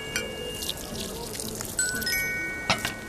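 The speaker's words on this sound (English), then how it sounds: "combine half water and half honey" Water and honey being poured in the VR cooking game Lost Recipes, with soft trickling and a few small chime-like clinks over a steady background hiss.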